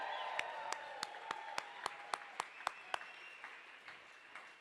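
An audience at a charity gala auction claps, with a dozen sharp, evenly spaced claps standing out over a soft hum of room noise before fading out.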